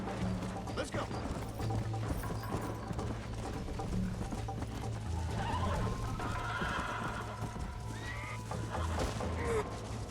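A horse in the Western video game Red Dead Redemption whinnies and clip-clops at a gallop, its steady hoofbeats running under game music and mechanical clatter, with voices talking over the action.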